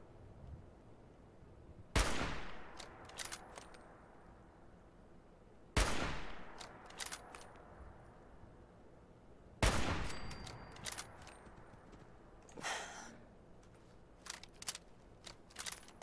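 Rifle fire in Fallout 4: three sharp, loud single shots spaced a few seconds apart, each trailed by clinking echoes and small metallic clatters, over a quiet background.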